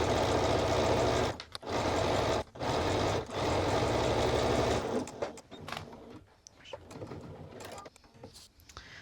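A sewing machine drives a long continuous run of stitching down a garment sleeve seam, loud and close, with brief stops around a pivot at the underarm, then gives way to softer handling noises and quiet.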